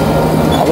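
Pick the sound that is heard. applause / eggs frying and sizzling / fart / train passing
train passing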